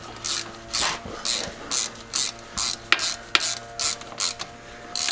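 Rapid ratchet clicks from snugging down the differential cover bolts on a Jeep Wrangler, coming in about a dozen short even bursts with brief pauses between them, close and loud with no talking.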